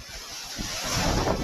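Broad rushing sea surf on the Konkan coast with a steady windy roar, swelling louder toward the end as a wave seems to wash in nearby; no voices.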